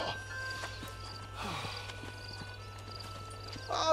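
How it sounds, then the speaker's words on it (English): Horse hooves clip-clop at a steady walking pace in the Red Dead Redemption video game, moderately loud over a constant low hum, with a brief whinny-like burst near the end. "It's my horse."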